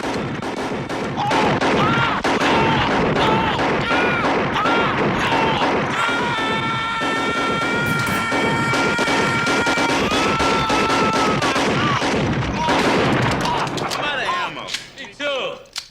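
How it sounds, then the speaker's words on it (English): Intense movie gunfire from Robocop (1987), a relentless barrage of loud, rapid shots with sharp cracks stacked over a dense mix of impacts, a sustained alarm-like tone and music, tapering off abruptly at the end. "they shoot him a ridiculous amount of times"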